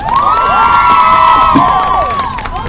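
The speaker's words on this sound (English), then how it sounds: "let's give one more round of applause" A crowd at a college field hockey game between Earlham and DePauw cheers for honored seniors, loud sustained shouting and high whoops with children's voices prominent, close and dense throughout.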